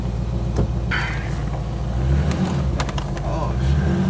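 A Chevrolet Corvette C5 Z06 engine runs inside the car with a steady low rumble that swells as it revs, under occasional talk from the people aboard.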